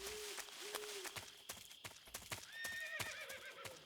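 A horse whinnies with a rising, wavering neigh near the end, after a series of sharp hoof clops and thuds; game audio from Metal Gear Solid 3: Subsistence.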